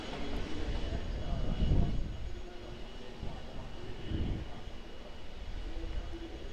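Boeing 777 airliner at Auckland Airport, a steady broad engine roar from a distance with two swelling low rumbles as it passes, distant and moderately loud throughout.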